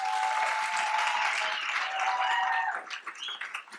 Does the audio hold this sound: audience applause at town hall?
yes